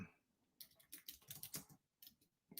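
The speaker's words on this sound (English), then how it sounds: "Okay, I'm typing it out so I can put it in the chat." Rapid keystrokes on a computer keyboard in short irregular bursts of clicks with brief pauses between them, close and fairly quiet, alone without speech.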